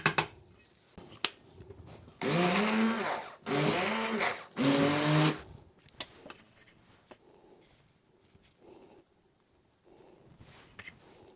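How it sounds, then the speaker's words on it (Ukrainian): An immersion blender purées cooked peas in three loud bursts with short pauses between, then stops, leaving faint clinks and kitchen noises. "Тому ще пройдемося погружним блендером."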